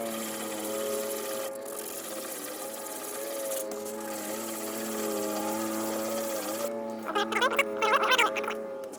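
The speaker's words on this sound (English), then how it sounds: "pressing that against the angle grinder because this would take way too long" Angle grinder grinding down a metal part pressed against it, a steady high-pitched whine running continuously and fairly close, with rougher scraping bursts near the end.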